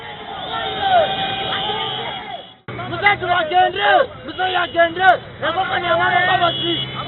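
A thick crowd swarms around a political convoy in eastern Uganda, cheering and ululating in a dense, nearby babble of many voices, with a short break before the noise surges back.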